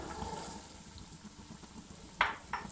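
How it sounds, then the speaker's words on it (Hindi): Potatoes and peas added to sizzling masala in a pot, a soft frying hiss running throughout, topped by two brief louder sizzling bursts near the end as the vegetables hit the hot spices. "इस टाइम पे मैं इसमें आलू ऐड कर दूंगा और ये मटर भी ऐड कर दूंगा"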